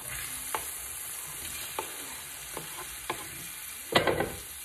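Sausage frying in a pan for Cajun jambalaya pasta, a steady close sizzle broken by a few utensil scrapes and a louder burst of stirring near the end.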